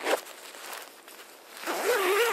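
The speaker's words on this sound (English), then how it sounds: "The main zipper, like all the zippers on this jacket, are very easy running" The main zipper on a Rab Infinity Endurance jacket runs open or closed in a short, close, smooth pull, with faint rustling of the fabric and no talk.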